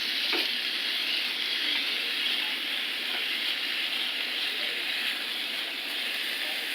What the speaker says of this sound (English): while I cook my onions